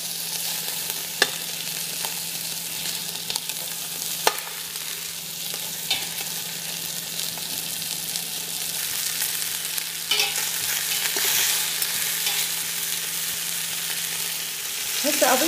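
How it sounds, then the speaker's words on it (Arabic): Chicken pieces stirred and lightly fried in a pan for a yellow chicken tashreeb, a steady sizzle running throughout with scattered scraping clicks of the spoon, fairly close and with no talking. "اقلبه هنا باستمرار على مود ياخذ اللون اللي انا اريده"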